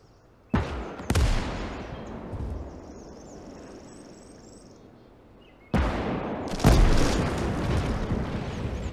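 Heavy artillery cannon fire in Call to Arms: Gates of Hell, with two pairs of loud, booming blasts, each followed by a long, rumbling decay, separated by a quieter stretch with a faint distant whine.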